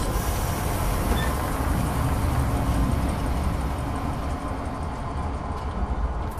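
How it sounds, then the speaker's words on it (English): A train ride in the horror game Zoochosis produces a constant loud rumble with steady broadband rolling noise and no pauses. "Train goes to the current station."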